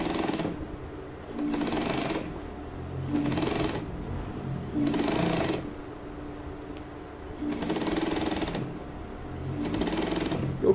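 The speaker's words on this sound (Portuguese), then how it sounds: "Eu tenho que fazer um pesponto indo e voltando." A sewing machine stitching a topstitch along a trouser leg seam, running in repeated bursts of rapid mechanical whirring separated by short pauses, going back and forth, fairly close and alone without talk.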